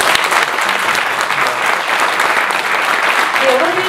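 A crowd at a book talk show and mini concert claps steadily and loudly for the hosts, dense applause filling the whole stretch without a break.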